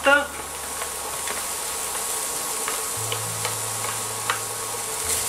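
Shallots fry in a pan, a steady close sizzle with scattered small ticks and pops from the hot fat, and a voice speaks briefly over it.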